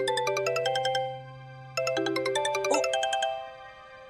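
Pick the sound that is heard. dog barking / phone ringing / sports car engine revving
phone ringing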